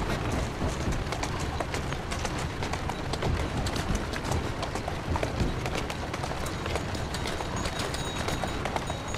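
Horse hooves clip-clopping in the video game Assassin's Creed Syndicate, a fast continuous clatter of hoofbeats inside a dense, steady rumble of street noise with no voices.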